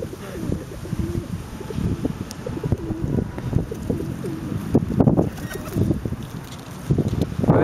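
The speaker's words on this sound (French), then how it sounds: "les pigeons du Faro" Pigeons at the Faro coo and rustle close by, with throaty calls and wing flutters piling up in a busy, continuous mix carried on some wind noise.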